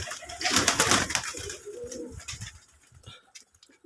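Pigeons, roughly twenty pairs of local running pigeons kept for sale, cooing close by in a soft, repeated throaty burble that fades toward the end, with no talking.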